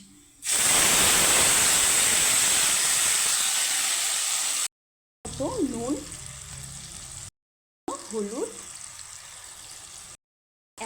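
Whole cumin, ginger and green chilli hit hot oil for a tempering, bursting into a loud, steady sizzle that holds for about four seconds, then continues more quietly beneath a woman's speech.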